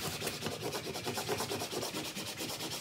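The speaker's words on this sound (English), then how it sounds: "Go ahead and scrape. Get the vinyl." A scraper rubs steadily across an umbrella's canopy to lift weeded vinyl from its backing, making a continuous close scratching with a regular back-and-forth rhythm and no talk.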